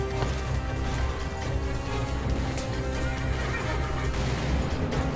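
A horse whinnies loudly over a steady hoofbeat clatter and a dense game soundscape in the video game Call of Juarez, with no talking.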